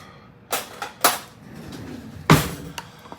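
Barbecue sauce being mixed in a dish: a few sharp clinks and scrapes of a utensil against the dish, spaced irregularly over a quiet background, with no talking.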